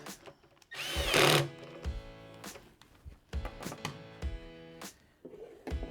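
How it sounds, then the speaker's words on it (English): A power tool briefly whirs as it tightens a hose clamp on a VG12 tank, a single loud burst of about half a second followed by quieter clanks and handling noises. "We'll torque down our hose clamp."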